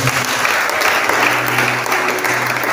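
A congregation at a French-language church service applauds in acclamation of the Lord, a loud, even burst of clapping that fills the short stretch, with a low hum of voices under it.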